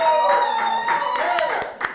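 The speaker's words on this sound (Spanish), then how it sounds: "Aplauso a Claudia, Dios mío." A studio audience on a roulette-wheel game show claps for a contestant named Claudia: scattered, fairly close claps over a steady musical tone bed, with one sharper burst near the end.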